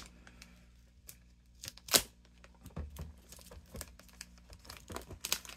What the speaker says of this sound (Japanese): セロテープが 頑丈に貼ってありますね。